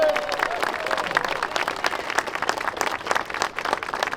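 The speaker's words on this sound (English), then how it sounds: "A big round of applause for our volunteers" A crowd at an outdoor press conference in Balboa Park applauds volunteers, a dense, steady round of clapping close and fairly loud, with a brief voice at the start.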